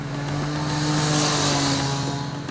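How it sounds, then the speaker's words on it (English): A 2023 Triumph Street Triple 765 RS with its inline three-cylinder engine, ridden on the road in Sport mode, gives a steady, loud, continuous engine drone with strong harmonic tones, holding fairly even with no talk. "that entertaining music from the inline 3 engine"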